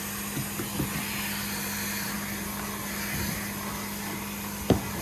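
A vacuum cleaner runs steadily, sucking dust off the floor beside a Whirlpool refrigerator, its loud constant hum and whoosh broken by a few small bumps and a sharp knock near the end.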